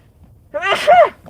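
A single close, loud human sneeze, a quick intake followed by a sharp voiced burst, heard on a freezing night outdoors.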